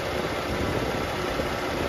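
A 3.8-liter V6 in a 2021 Hyundai Palisade Calligraphy with about 12,000 miles idles steadily under the open hood, giving a smooth, even hum that holds at a constant level with no one talking.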